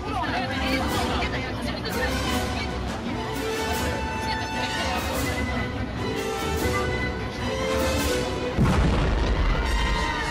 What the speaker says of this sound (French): La procédure d'urgence à peine déclenchée et le dernier passager évacué, une violente explosion se produit.